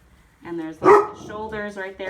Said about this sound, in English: That's just my dog Reggie.